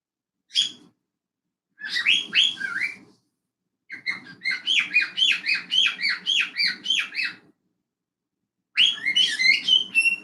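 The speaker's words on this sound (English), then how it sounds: "I hear you, birds." Pet birds squawk and whistle in several bursts of rapid, sharp chirping calls separated by short silences, loud and close.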